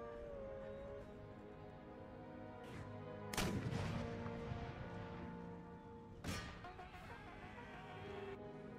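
Artillery cannons fire in an Empire Total War battle, with two sharp booming blasts rising over a constant backdrop of musket gunfire and battle din.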